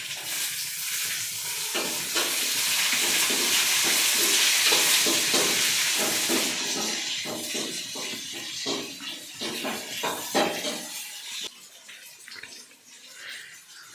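Onions sautéing in a pan with green chili, garlic, curry leaves and fennel for a dried-fish curry, a loud continuous sizzle that thins into lighter crackling and stirring scrapes toward the end.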